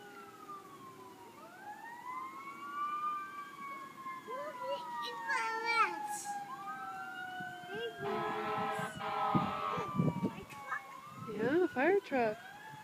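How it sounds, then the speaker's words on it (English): A fire truck siren wails in rising and falling sweeps, accompanied by blaring horn blasts, with traffic noise and voices nearby. "we did see a fire truck at the store."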